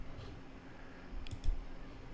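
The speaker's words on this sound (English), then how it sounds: "And after that just click on OK." Computer mouse clicks at a desk, two quick faint clicks close together near the end, otherwise a quiet room hum.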